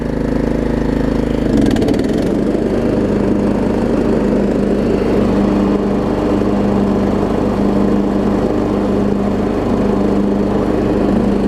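A Troy-Bilt Pony riding mower engine runs loud and close, a steady chugging drone that briefly lurches around the two-second mark, then settles into an even idle-like rumble for the rest, with no talking.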